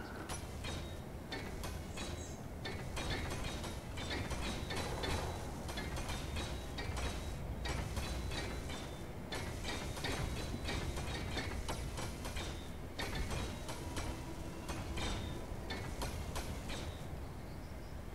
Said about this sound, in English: So, now it's back, and I'll turn on the welders.